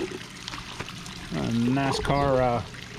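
Siphons draining water from garden vegetable beds give a soft, hissing trickle, then two close, bubbly gurgling bursts as they burp and pour in quick succession.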